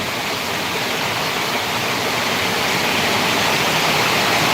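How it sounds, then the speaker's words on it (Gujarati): Heavy monsoon rain with water rushing and flowing, a dense, loud, unbroken roar of downpour throughout with no voices. "એટલો વરસાદ પડી ગયો છે જબરજસ્ત"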